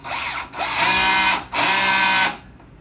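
A DeWalt impact driver drives a screw in two sustained bursts, each about a second long, with a short pause between them and a final stop. The buzzing hammer whir is close and loud, with no voices.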